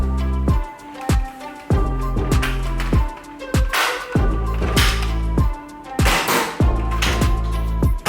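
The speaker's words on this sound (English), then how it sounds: "Shooting with elite darts." A Nerf Tricera-blast blaster fires elite darts in a steady series of about a dozen loud, close shots, each a sharp pop with a short ringing tail, spaced roughly half a second to a second apart.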